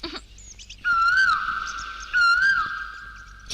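A person whistles an imitation of a koel's call, two clear rising-and-falling whistled phrases separated by a short pause, close and fairly loud over a quiet background.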